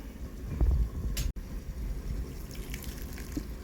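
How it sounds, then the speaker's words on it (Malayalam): Water pours steadily into a grinder of coconut and spices in a continuous wash of noise, with a brief sharp break partway through and a low rumble underneath. "ആവശ്യത്തിന് വെള്ളം ഒഴിച്ച്"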